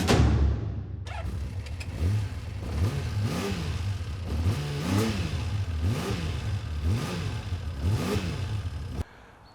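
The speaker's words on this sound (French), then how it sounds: "La Honda CBX 1000 6 cylindres" Honda CBX 1000 six-cylinder motorcycle engine revved repeatedly, about seven sharp rising-and-falling blips in a steady rhythm over a rough idle, close and loud, cutting off abruptly.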